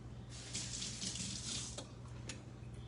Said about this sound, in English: We'll go ahead and rinse my hands off real quick.